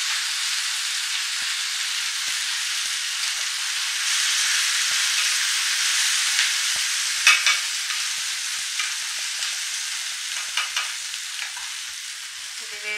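Minced mutton kheema with mint and coriander frying in a pan, giving a steady, loud broadband sizzle with faint crackles and small pops throughout, no voices.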